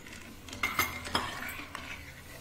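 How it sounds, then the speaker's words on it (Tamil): Sugar being stirred into carrot vermicelli payasam in a pot, a few soft scraping and clinking strokes of a spoon against the pot over a quiet background, no voices. "நல்லா கிளறி விடுங்க."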